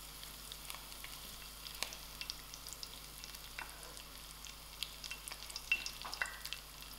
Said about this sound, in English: And then I'm going to add in my curry leaf to it.